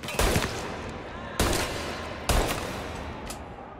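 Machine gun fire in Mafia Definitive Edition: three heavy gunfire bursts spaced about a second apart, each followed by a ringing tail, loud and close with no talk.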